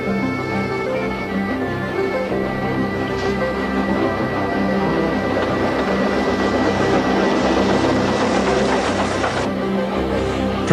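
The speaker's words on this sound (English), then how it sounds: "Progressing up the longest straight section and silhouetted against the blue sky, with the peak in sight now, the train pushes on doggedly." Snowdon Mountain Railway rack train pushing doggedly up the longest straight section toward the peak, a loud, steady engine drone and rumble that holds throughout without a break, with no voices.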